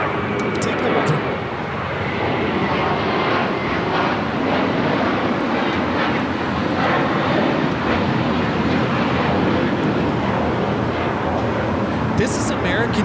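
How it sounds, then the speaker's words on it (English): An American Airlines A321 jet takes off at LAX with a heavy, sustained engine roar that stays loud and even throughout, faint voices talking beneath it. "This is American Airlines 274 taking off to JFK on the A321"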